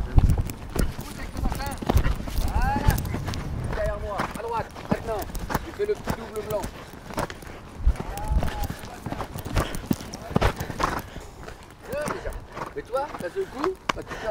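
Horse hooves clip-clop on the footing of a riding arena during a jumping lesson, the steady beats running through the whole stretch while people talk over them.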